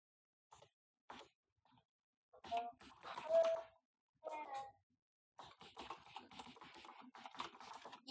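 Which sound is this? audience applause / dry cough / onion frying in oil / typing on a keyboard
typing on a keyboard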